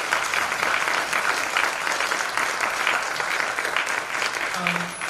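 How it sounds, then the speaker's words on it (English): Audience applause fills a school winter concert hall, steady dense clapping from a large crowd holding at an even level throughout, with no break. "So give yourselves a round of applause."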